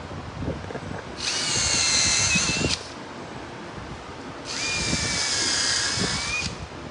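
A power drill drives screws into a wooden river pour table in two loud, sustained bursts of about one and a half to two seconds each, separated by a quieter pause with faint workshop noise.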